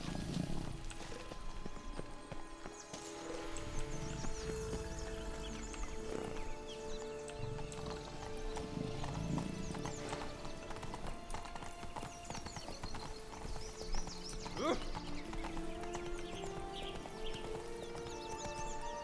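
A horse ridden in the game The Witcher 3, hooves clip-clopping in a steady rhythm across the whole stretch alongside occasional snorts or whinnies, set against game music and ambience.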